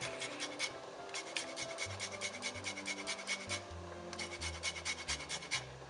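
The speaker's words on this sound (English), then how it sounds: "I'm going to grate the zest of the lemon now." Lemon zest being grated by hand, a quiet, rhythmic rasping scrape repeated in steady strokes, close up with no talking.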